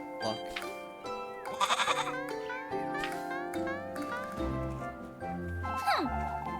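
A goat in the Little Goody Two Shoes game bleats repeatedly, with wavering, nasal cries close up, mixed with other game sounds and brief bits of voice.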